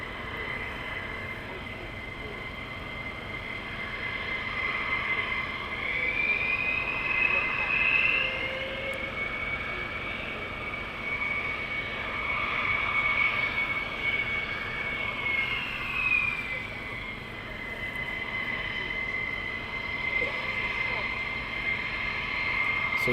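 A military jet powers up for takeoff at RAF Lakenheath, its steady distant engine roar holding for over twenty seconds with a rising whine, while people talk over it.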